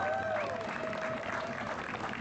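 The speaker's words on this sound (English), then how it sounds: "give yourselves a round of applause" A rally crowd at a federal building gathering against Medicare privatization bursts into sustained applause, a dense wash of clapping with some cheering throughout.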